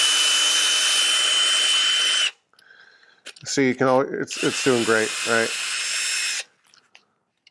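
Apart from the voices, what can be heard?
power drill spinning carriage bolt against 220 grit sandpaper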